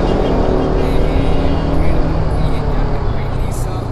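A new KTM RC200 motorcycle rides along with a loud, steady engine drone and rushing wind noise filling the whole stretch, with no break in the sound.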